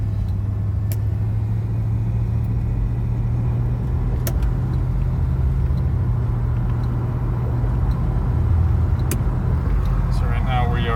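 A 1978 Mercury Cougar XR7 cruises at about 50 mph, heard from inside as a loud, constant low engine drone with road rumble and wind noise, plus a few light knocks.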